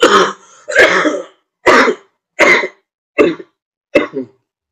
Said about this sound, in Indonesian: Sorry, agak batuk.